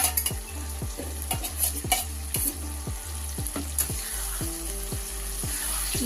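Chicken frying with ginger, chilli and garlic paste, a loud sizzle under a steady run of rhythmic spatula scrapes against the pan, roughly two per second, with a low hum beneath.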